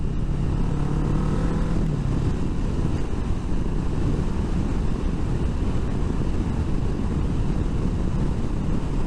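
A Kawasaki ER-6f 650cc parallel twin motorcycle with an aftermarket exhaust riding along a countryside road in high gear, a continuous low engine drone blended with heavy rushing wind buffeting the microphone.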